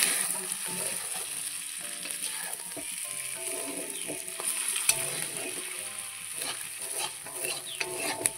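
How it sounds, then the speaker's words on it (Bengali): Lightly fried pakal eel fish hits a pan of spice paste, producing a steady close sizzle and frying crackle with occasional stirring clinks, and no voices. "এবারে হালকা করে ভেজে রেখেছিলাম পাকাল মাছগুলো, সেগুলো কিন্তু মশলার উপরেই দিয়ে দেবো।"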